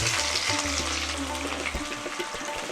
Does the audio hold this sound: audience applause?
no